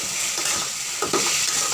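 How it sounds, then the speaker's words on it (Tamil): Chicken sautéing in a pan for Tamil chicken uppukkari, a close, continuous sizzle with brief scraping stirs over it, no talk. "இதில் சிக்கனை சேர்த்துக்கலாம். நல்லா வதக்கிக்கலாம்."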